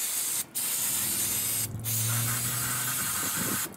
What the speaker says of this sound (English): Just gonna spray this down.